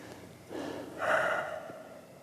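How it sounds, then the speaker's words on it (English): A person slowly draws one deep breath in and lets it out during a calming tapping session. The breath is soft, close and heard alone, with no talk. "Take a deep breath."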